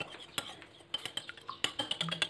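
A spoon clinks steadily against a bowl as a raw egg is stirred into thin batter for fried instant noodles, a close run of quick scraping taps with no talking.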